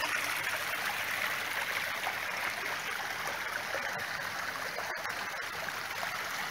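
Water from a spring runs steadily at a traditional restaurant in Vevčani, Macedonia, a constant close rushing and trickling flow with no break and no voices.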